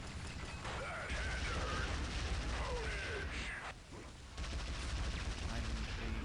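Rapid automatic assault rifle fire in Unreal Tournament team deathmatch, a dense, loud, continuous clatter of shots with a short break near the middle, mixed with other game noise.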